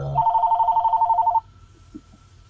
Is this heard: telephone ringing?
yes